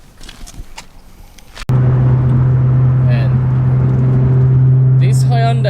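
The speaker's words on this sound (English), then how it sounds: "this Hyundai is super loud. It's a straight piped V6, so it's like proper loud, this thing" Straight-piped Hyundai V6 car engine fires up loud and close, holding a deep, steady, rumbling idle with a slight rev near the end.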